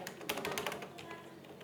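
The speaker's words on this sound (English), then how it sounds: "Now here I'm going to type h1, then hello" A burst of rapid clattering keystrokes on a computer keyboard, close and fairly quiet, tapering off after about a second.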